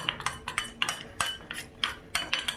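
A spoon stirs milk into a mixture in a bowl for carrot paramanam, producing a series of quiet, irregular clinks and scrapes against the bowl.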